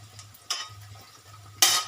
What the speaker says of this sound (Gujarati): આદુ લસણની પેસ્ટ નાખ્યા બાદ આપણે તેમાં કટ કરેલા મરચાં નાખશું.